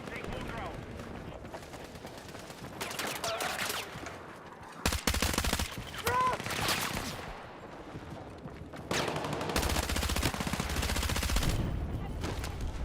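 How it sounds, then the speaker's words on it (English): Bursts of gunfire, including shotgun blasts, crack out in Battlefield 6 combat, some close and loud, others distant, spread irregularly across the clip amid background battle noise. "Sound like a shotgun."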